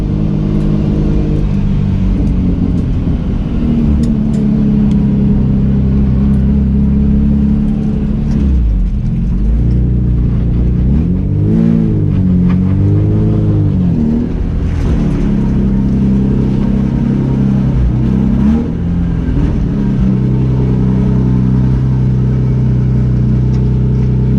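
A Lexus SC300 drift project car with a high idle around 1200 rpm, its engine droning loud and steady for the whole span with slight wavering in pitch and no voices.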